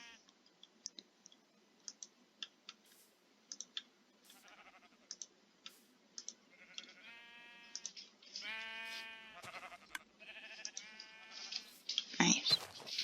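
Sheep bleating in Minecraft near a dispenser loaded with shears, several short wavering bleats rising in number, mixed with many light clicks, faint and close, with no talk.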